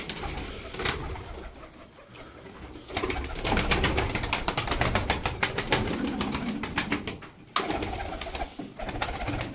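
Turkish tumbler (taklacı) pigeons coo repeatedly in soft, throaty rolling calls, with occasional wing flutters and light ambient noise; no one speaks.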